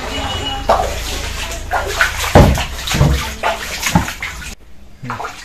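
Dirty drainage floodwater fills a house and kitchen, sloshing and splashing steadily as someone wades through it, with a few heavier splashes, close by and fairly loud.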